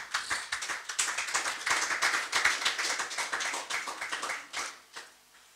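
A church congregation applauds at an evangelical deliverance service, with dense, sustained clapping that holds steady for several seconds before thinning out and fading near the end. No voices stand out.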